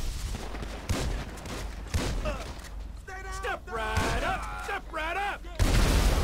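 Gunfire in Grand Theft Auto 5 gameplay, several sharp shots cracking amid game sounds, with someone talking over the action and groaning, bellowing voices from the game mixed in.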